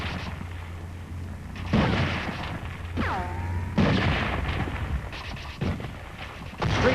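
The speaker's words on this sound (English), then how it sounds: "These are Marines and U.S. 7th Division troops advancing into Seoul under enemy fire." Gunfire and heavy blasts in a 1950 Korean War newsreel of Marines and U.S. 7th Division troops street fighting in Seoul, with several loud booming bursts and sharp cracks over a steady noisy background.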